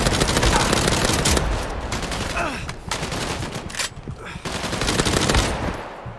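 Rapid automatic gunfire in a first-person tactical shooter game rattles in loud sustained bursts, broken by brief pauses, close and dominant throughout.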